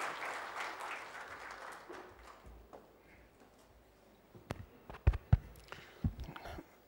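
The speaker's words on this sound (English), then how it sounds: "Can we have a round of applause, ladies and gentlemen, for Dr. T. Venugopal." A conference audience applauds as a speaker is welcomed, starting as a soft, dense patter that fades to quiet, then a few louder, isolated thumps and knocks close by.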